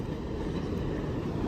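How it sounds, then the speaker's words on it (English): A New York City subway 7 line train at the 46th Street station gives a steady, loud rumbling roar with broadband rail noise throughout, close by and without speech. "that was a train I just got off"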